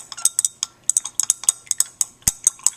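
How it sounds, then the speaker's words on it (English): A rod stirs copper in hot distilled water inside a glass beaker, giving a rapid, irregular series of close, bright clinks and scrapes with no talk. "We'll stir"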